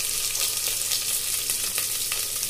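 Hot oil sizzles steadily as spices and garlic are tempered for a curry of bengal gram, a bright continuous crackle close up with occasional pops and stirring, no talk over it.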